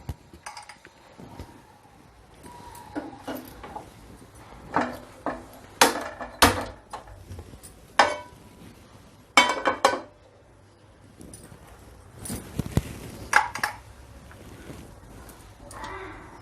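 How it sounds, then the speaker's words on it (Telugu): A metal pan clinks and knocks against a stove while peanuts for a peanut chutney are readied, with scattered sharp clanks and taps separated by quiet gaps. "ఇప్పుడు స్టవ్ ఆన్ చేసుకుని ప్యాన్ పెట్టుకోవాలి"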